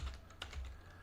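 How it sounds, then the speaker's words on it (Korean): Fast, light clicking of keys on a computer keyboard as a company name is entered into accounting software, a quick irregular run of soft taps close to the mic. "제가 타이핑이 빠른 편 아닙니다"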